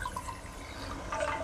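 A waterfall in the video game Kena: Bridge of Spirits makes a continuous close splashing wash of water with a few brighter liquid glints.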